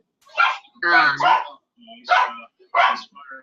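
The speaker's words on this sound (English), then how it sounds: "Somebody has a dog and is not muted." A dog barks over an unmuted video call, several separate close barks in an irregular series, clear and fairly loud against silence.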